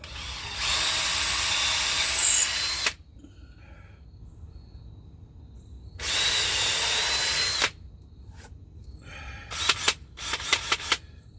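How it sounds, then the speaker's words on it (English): A power drill bores a pilot hole in two loud sustained whirring runs separated by a pause, followed by several short stuttering bursts of the motor. "That should be close enough for a pilot hole."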